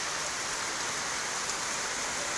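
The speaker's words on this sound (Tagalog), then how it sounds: "Lakas pa rin ang ulan, oh." Heavy rain pours steadily onto surfaces outdoors, a dense, unbroken hiss of falling water that stays loud and even throughout with no voices over it.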